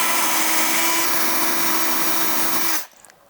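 A power drill drives a twist drill bit into melamine board with a loud, continuous whirring grind that stops abruptly just before the end.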